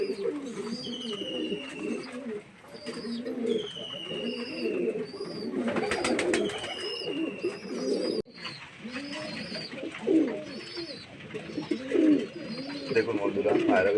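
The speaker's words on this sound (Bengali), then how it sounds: "দেখুন ধানগুলো কেমন খাচ্ছে এক মন দিয়ে গোল হয়ে সব পায়রাগুলো" Pigeons coo continuously and close by in a low, bubbling chorus while they feed on paddy grain, with occasional higher chirps over it.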